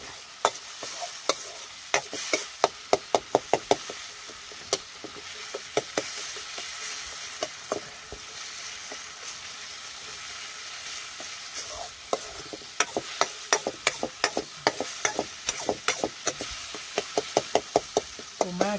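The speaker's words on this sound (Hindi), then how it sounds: "आग बढ़ गई, आग बढ़ गई, तो अब तड़का भी जल्दी बन गया।" Tadka tempering frying in a pan over a rising flame: a steady sizzle with repeated stirring clicks and sharp taps of a utensil against the pan, fairly close, with no talking.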